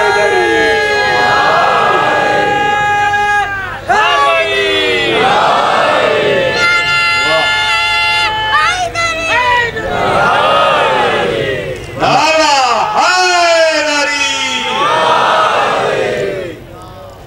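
A large majlis congregation recites salawat together in loud unison, the chanted phrases rising and falling in repeated waves that fill the room.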